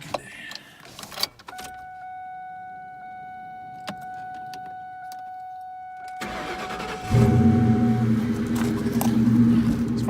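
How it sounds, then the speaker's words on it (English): A 2001 Ford Mustang GT with a stock exhaust cranks after a quiet key-on chime and catches, settling into a loud, steady idle rumble. "let's fire it up"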